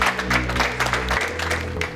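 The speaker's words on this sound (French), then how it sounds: "on l'applaudit encore" Applause for a departing fighter-pilot trainee among his classmates, a short burst of clapping over a low steady hum, with some voices mixed in.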